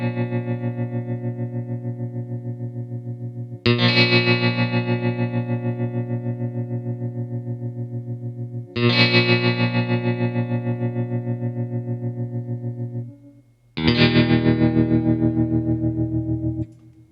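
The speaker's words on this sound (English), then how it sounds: "chords that are sustained and have the amazing tremolo effect" Sustained, distorted baritone electric guitar chords with a rapid tremolo pulse, three long chords ringing out one after another with reverb, no voices.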